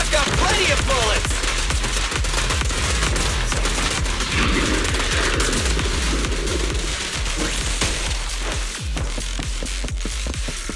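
Dense, continuous gunfire in the Zenless Zone Zero video game, a loud rattling barrage of rapid shots layered with game music and effects, with a voice heard briefly amid the noise throughout.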